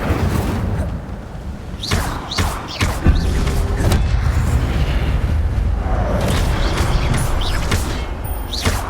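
In Hogwarts Legacy, casting the Incendio fire spell brings a burst of fiery whooshes and booming thumps, with sharp impacts scattered over a dense, rumbling game soundscape.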